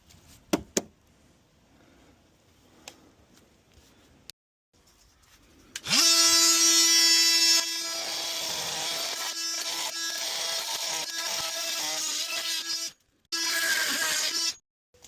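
A power tool cuts bolts during a 12V air conditioner install on a 2022 Winnebago Solis 59P RV. After scattered quiet clicks and handling noise, a loud, steady high-pitched whine runs for several seconds, stops briefly, then starts again.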